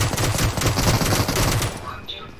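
Rapid automatic gunshots in PUBG, a dense rattling stream of fire that thins out and fades near the end.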